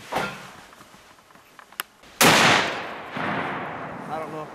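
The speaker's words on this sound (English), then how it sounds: "I don't know if I got the shot or not." A single loud gunshot goes off outdoors during a hunt, a sharp crack followed by a long decaying rumble, with a few faint clicks just before it.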